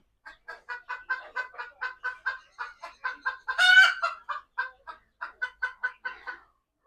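Chickens cluck close by in a rapid, even series of short calls, one louder drawn-out squawk rising in the middle before the steady clucking resumes, with no one talking.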